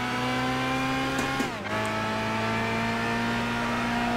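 A race car engine holds full throttle in the Gran Turismo 6 driving game, a loud steady high-revving drone with a brief dip and upshift midway before the whine settles again.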